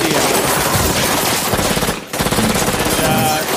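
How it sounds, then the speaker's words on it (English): Rapid, continuous bursts of machine-gun fire from a gangster shootout scene in the movie The Mask play loud and dense. The firing pauses briefly midway, then resumes just as intensely. "A lot of gunfire for a family. It's very loud."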